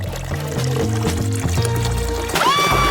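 Cola pours from a bottle, a steady liquid stream over a background of music-like tones, ending with a rising glug near the end.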